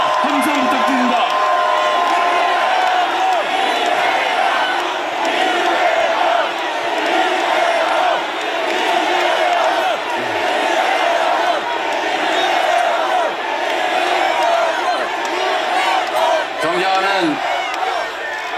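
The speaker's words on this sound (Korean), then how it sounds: "여러분 뜨거운 박수와 함성 부탁드립니다." A large crowd at a political rally cheers, shouts and claps in a sustained roar that swells and dips over the whole stretch, with scattered whoops and raised voices rising above it.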